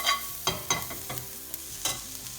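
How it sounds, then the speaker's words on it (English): A spoon stirs chili powder into mushroom bhaji frying in a pan, giving a few distinct scraping strokes over a soft, constant sizzle. "so I'm going to add just under 1 tablespoon of chili powder. Give it a nice mix."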